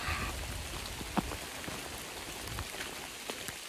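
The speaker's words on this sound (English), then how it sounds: "it is pouring down rain" Heavy rain pouring onto a wooded trail, a constant wash of drops with occasional sharper close taps standing out, steady and moderately loud with no one speaking.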